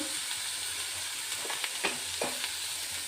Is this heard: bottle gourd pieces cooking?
yes